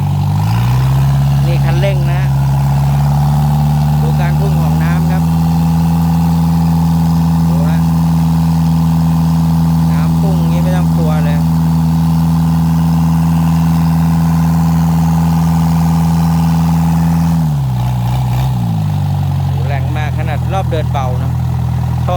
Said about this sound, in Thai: จะของรถมา เร่งเครื่องให้ดู